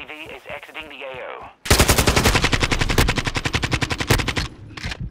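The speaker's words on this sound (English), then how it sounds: "I shot him like three times, left window." Rapid AK-74 automatic gunfire in the video game Modern Warfare 2, a loud sustained burst of fast evenly spaced shots after a brief stretch of talk, ending with a short final burst.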